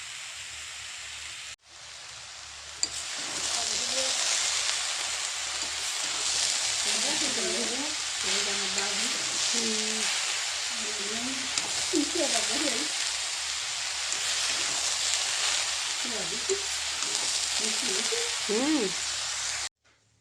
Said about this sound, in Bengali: এটা নাড়তেই থাকতে হবে একটু ভাজা ভাজা হয়ে যাবে